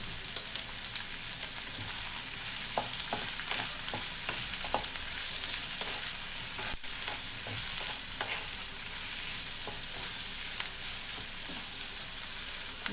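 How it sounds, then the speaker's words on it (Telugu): Two green chilies, a dried red chili and curry leaves fry in a pan for a milk curry, a constant bright sizzle with occasional light stirring clinks throughout; no one speaks. "అలాగే రెండు పచ్చిమిర్చి ఒక ఎండుమిర్చి కరివేపాకు ఆల్రెడీ వేసుకున్నాం కదా వేసుకున్నాను ఇప్పుడు ఇవన్నీ కూడా దోరగా వేగాలి"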